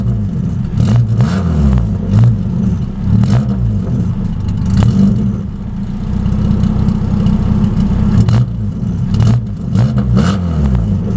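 A Chrysler PT Cruiser engine, newly fitted with an intercooler, revs repeatedly in quick throttle blips over a steady low idle, loud and close with a rhythmic pulsing rumble and no talking.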